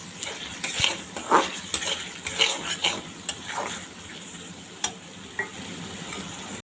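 Shrimp sauté with spices in an oily pan, sizzling under repeated scrapes and clacks of a spatula stirring against the metal. The sound is close and uneven, with no voices.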